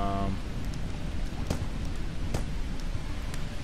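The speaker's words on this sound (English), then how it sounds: "Oh no, it's raining." Rain in the indie exploration and survival game Under The Garden: a steady hiss of falling rain with a few sharp ticks and crackles, constant and fairly loud, with no talking.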